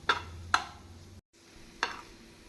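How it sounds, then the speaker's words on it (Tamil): Pav bhaji masala is stirred into vegetables frying in a pan. Three sharp spoon taps ring against the pan over a faint, steady sizzle, close and quiet, with a brief gap between the strokes. "நாம் பாவ் பாஜி மசாலா சேர்த்து நன்றாக மிக்ஸ் செய்ய வேண்டும்"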